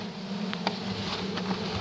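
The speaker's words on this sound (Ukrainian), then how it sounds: "Вон бджоли як лізуть" Bees buzz in a low, steady drone close by, with a few brief sharper buzzes passing through.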